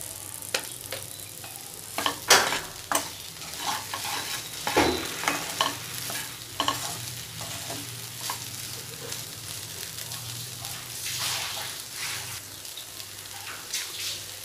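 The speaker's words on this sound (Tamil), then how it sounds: "சிம்மிலே வச்சுக்கிறோம் நல்லா வேக நல்லா ஃப்ரை ஆகட்டும்" Okra (vendakkai) frying over low heat in a pan, a steady soft sizzle broken by repeated scraping and clinking as it is stirred, up close with no talk.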